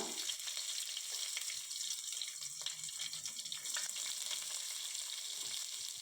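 Onion fries in a pan with cardamom and kalpasi for a restaurant-style white vegetable kurma, a soft steady sizzle with light stirring scrapes throughout, fairly quiet and with no talk.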